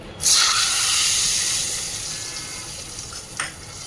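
Kashmiri chilli tempering stirred into dahi tadka, a bright hissing sizzle that bursts in at the start and slowly fades, with a small clink near the end.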